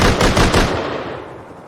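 A loud, close burst of rapid automatic gunfire in a video game, the shots running together into a dense rattle before fading out over the last second.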